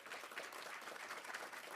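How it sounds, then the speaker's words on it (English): An audience applauds at an arts awards ceremony, a dense wash of many hands clapping steadily throughout, faint and distant with no voices over it. "Let's give a round of applause to the English department and creative writing"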